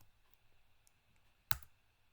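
A single computer mouse click while running a Node.js Express app in a quiet room, one sharp tick standing out against faint background hum.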